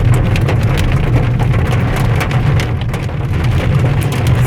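Hail and heavy rain pour down during a storm in the Andes of Mendoza, a loud dense patter and drumming on surfaces with a low steady rumble underneath.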